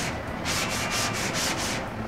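Dyed wood samples for a 1964 ES-335 guitar build being hand sanded with 150-grit sandpaper, a steady run of rhythmic back-and-forth rasping strokes, close and fairly loud, with no talking.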